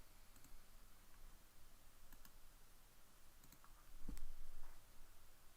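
A computer mouse clicks softly a few times in a quiet room, with sparse, faint, short ticks spread apart.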